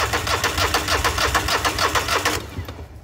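A John Deere engine with a freshly repaired starter fires and runs, a steady mid-pitched rhythmic idle pulsing close by for over two seconds before cutting off abruptly into quiet.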